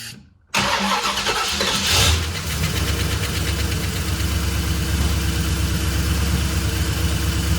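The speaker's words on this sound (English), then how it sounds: "then I'll go ahead and start it" A 1969 Buick GS engine fitted with Holley Sniper EFI cranks briefly and fires up, then settles into a loud, steady, slightly lumpy idle that runs on uninterrupted, close to the microphone.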